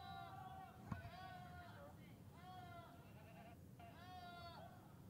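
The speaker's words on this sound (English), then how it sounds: "Goats yelling like humans." Several goat bleats in a row, drawn-out and wavering with an oddly human, yelling quality, each call loud and separated by short pauses.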